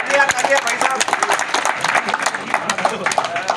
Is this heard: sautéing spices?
no